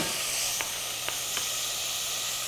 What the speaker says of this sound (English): we'll add some garlic to this, but not until we caramelize these onions